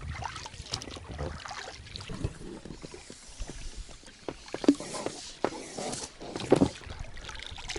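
A small fishing boat moves across a river or lake to set a second line of fishing tackle; water laps and splashes softly around the hull, with a few sharper knocks and splashes near the middle and end, and no talking.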